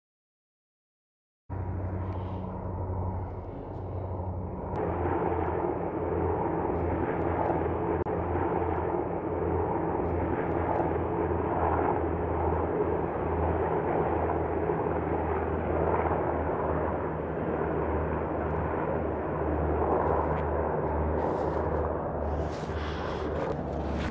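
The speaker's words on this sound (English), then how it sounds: "what'd you think of those helicopters?" Helicopters fly past in a steady, loud, droning rumble that starts abruptly and holds, with a deep rotor throb and a broad engine roar continuing throughout.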